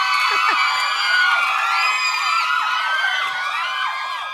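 Loud audience of fans screaming and cheering at a blind audition on a Thai TV singing competition, a dense, sustained wall of high-pitched shrieks and whoops that stays strong throughout before easing slightly at the end.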